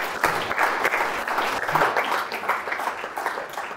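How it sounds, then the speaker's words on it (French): Conference audience applauding in a hall, a steady, fairly loud spread of many hands clapping that carries evenly from start to end. "Merci beaucoup, on peut l'applaudir."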